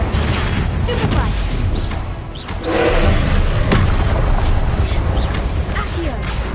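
Spell-casting effects in the Hogwarts Legacy video game during combat, dense booming impacts, whooshes and crashes layered over a constant roaring backdrop, loud and continuous.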